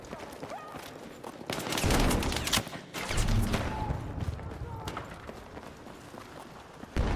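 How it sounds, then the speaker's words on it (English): Battlefield 6 gunfire: repeated sharp shots and bursts, some close and some farther off, crackling steadily through the whole stretch amid busy battle noise, with a loud blast near the end. "Where is he shooting me from?"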